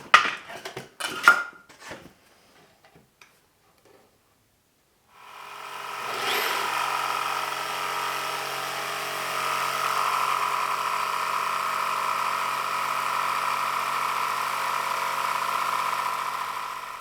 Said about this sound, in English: I'm going to use the jigsaw or the saber saw to make this cut.